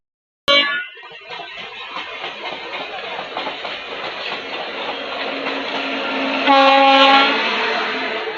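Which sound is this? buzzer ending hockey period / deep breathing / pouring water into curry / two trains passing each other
two trains passing each other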